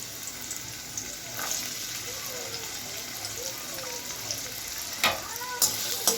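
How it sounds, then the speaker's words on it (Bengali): Chopped carrots fry lightly in oil in a wok with a steady, soft sizzle and a few sharper clatters of stirring near the end. Faint voice-like sounds come and go in the background. "গাজরগুলোকে আমি খুব একটা বেশি ভাজিনি, এরকম হালকা ভেজে নিয়েছি"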